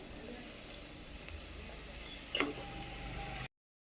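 Green chilli slices fry in oil for a chicken sherva, giving a faint, steady sizzle with a brief louder crackle of stirring near the end, close and without talk.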